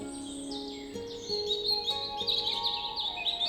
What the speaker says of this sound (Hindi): हर रात यह घाटी पक्षियों और कीड़ों की आवाज से गूंजती है